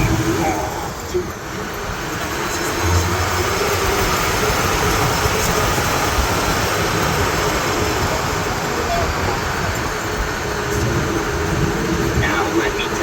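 A 1942 General Motors tour wagon named Captain Dixon rumbles along in a steady low drone with broadband road noise throughout, while a voice talks over it.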